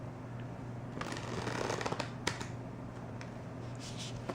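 Tarot cards are shuffled by hand in a steady, continuous riffle and slide of card stock, close and fairly quiet, with a few sharper taps standing out, and no voices.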